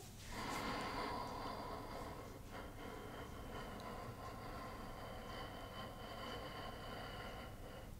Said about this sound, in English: so we'll take a deep breath in